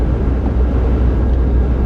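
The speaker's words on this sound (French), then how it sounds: "On a un vent encore, là. Oh là là, je pense que vous devez l'entendre. Ça souffle. Ça me bouge la voiture et tout." Strong wind buffets a parked car, a loud, steady low roar with rumbling gusts pressing against the body, heard from inside with no talking.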